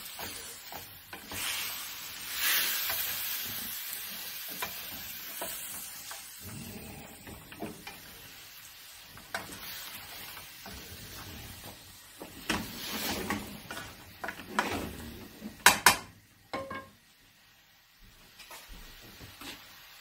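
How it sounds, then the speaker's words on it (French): Caramelized pork ribs being stirred in a pan, with soft scraping and clattering strokes over a quiet sizzle, irregular and fairly faint, no talk. "On va mélanger tout ça."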